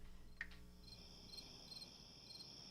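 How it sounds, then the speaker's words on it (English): Crickets chirp in a steady, faint, reverberant chorus with pulsing trills, heard alone without any voices. "We can have some crickets, right? Especially if we reverb them up a little bit."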